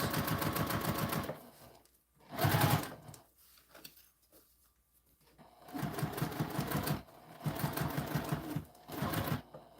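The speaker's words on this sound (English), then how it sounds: "sew up and down the sides and your top" A sewing machine stitching up and down the sides of a fabric panel in a craft sewalong, running in bursts of fast rhythmic stitching separated by quiet pauses.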